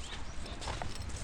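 Near a dam, a horse's hooves clip-clop faintly in a quick run of soft knocks against a quiet, rumbling background.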